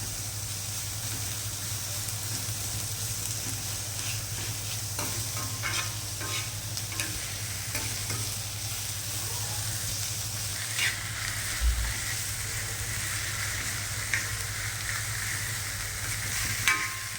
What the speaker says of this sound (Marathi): छान असा कांदा भाजू द्यायचा.